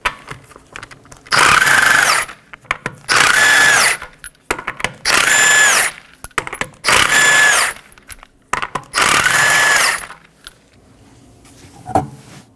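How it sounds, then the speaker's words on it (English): A power tool with a 21mm socket spins off the five lug nuts of a rear wheel on a 2015-2023 Nissan Maxima, giving five loud, separate whirring bursts with short pauses and nut clinks between them. "I'll be using a 21mm socket to remove the 5 lug nuts"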